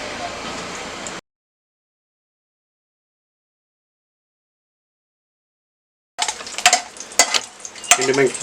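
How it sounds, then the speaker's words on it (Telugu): Dried red chillies, four or five of them, sizzle and crackle in hot oil in a pan, a short burst of frying, then a silent gap, then louder, sharper spitting sizzles with stirring clatter. "ముందుగా బండిలో నూనె తీసుకొని ఒక నాలుగైదు ఎండుమిరపకాయలు వేసుకొని వేయించుకోవాలి"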